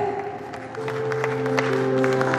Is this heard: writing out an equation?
no